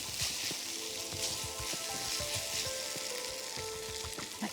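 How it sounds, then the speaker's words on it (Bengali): Boiled chicken with added spices is sautéed in a pan, producing a dense, even sizzle and hiss throughout with soft intermittent scraping of a spatula underneath, close and steady. "এখন জাস্ট একটু সতে করে আমি নামিয়ে ফেলবো"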